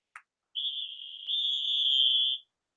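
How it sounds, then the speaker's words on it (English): A referee's whistle blows to signal halftime, giving one long, loud, steady shrill tone lasting about two seconds, led by a short faint chirp, with no other sound around it. "Here is the whistle, Jake."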